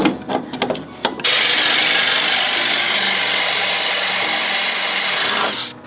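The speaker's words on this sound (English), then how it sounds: "I'm trying to drill it so I can take it out." A power drill grinds steadily through a bolt in the bed of an OBS Ford truck, loud and close for several seconds after a few short scraping bursts, then cuts off.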